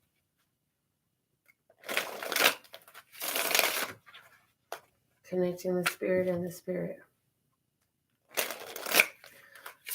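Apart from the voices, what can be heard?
shuffling tarot cards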